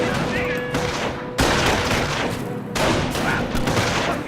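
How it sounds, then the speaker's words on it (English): A light machine gun rattles off bursts of rapid fire during a Company of Heroes battle in Normandy at Carentan, loud and dense, with other gunfire and explosions behind it and a voice talking partway through. "What is this, a light machine gun?"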